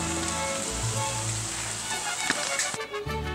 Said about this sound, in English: Now saute the vegetables until they're soft and fragrant